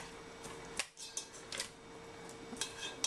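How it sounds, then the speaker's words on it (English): Ingredients are mixed in a Teflon pot with a utensil, producing sparse, faint clinks and scrapes spaced irregularly against a quiet background. "I have like a Teflon pot. Just gonna throw everything in, mix it well"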